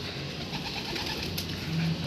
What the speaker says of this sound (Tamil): மேல் நம்ம புறா கூட்டுக்குள்ள சண்டை போட்டுக்கிட்டு இருக்குது